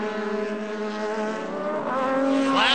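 Star Mazda race cars scream past on a track during a 2008 race, a sustained high-revving engine whine that climbs in pitch as a car closes in and grows louder toward the end.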